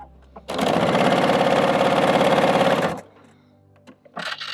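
A sewing machine stitches a quilt piece in one loud, steady run of rapid needle clatter lasting about two and a half seconds, then stops, leaving quiet room sound with a few faint handling noises.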